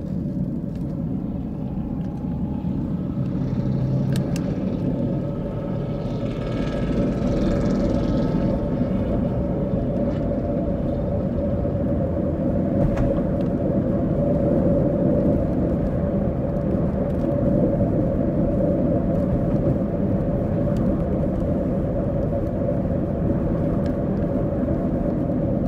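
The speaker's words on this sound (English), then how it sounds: "And I'll drive across the Gay Street Bridge and show you coming into downtown." Steady road rumble and engine hum from inside a car crossing the Gay Street Bridge into downtown Knoxville, Tennessee, continuous and close with no talking.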